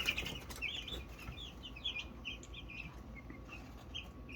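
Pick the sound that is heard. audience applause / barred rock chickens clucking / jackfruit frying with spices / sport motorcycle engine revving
barred rock chickens clucking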